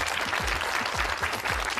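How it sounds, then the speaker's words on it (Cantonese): An audience claps in a burst of applause, the many hands forming a close, lively patter with no one speaking over it. "俾啲掌聲俾自己先。"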